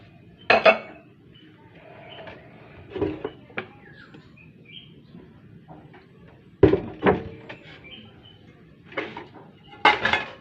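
Soapy plates with a fishy smell get washed by hand, with scattered clinks and clatters of dishes and cutlery knocking together in separate bursts, close by, over quiet background.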